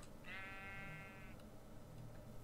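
Sheep bleats in the Minecraft video game: a clear, sustained wavering bleat for about a second, fairly close, over a steady background hum with no talk.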